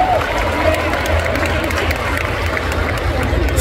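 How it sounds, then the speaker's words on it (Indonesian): Festival crowd at Java Jazz cheering and clapping for the performers, a dense continuous roar of applause and voices filling the space, loud and even throughout. "Tepuk tangan buat teman-teman semua."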